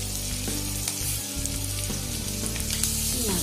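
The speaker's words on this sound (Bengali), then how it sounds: "পেস্ট একটু ভাজা ভাজা হয়ে যাবে।" Ridge gourd paste ground with garlic and green chili fries in a pan, giving a loud, continuous sizzle and crackle with a low steady hum beneath it throughout.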